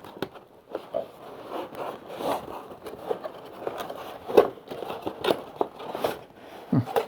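A cardboard box holding a Sapphire Radeon RX580 8GB graphics card is pried open from the side, giving close, quiet, irregular scrapes, rustles and crinkling cardboard noises.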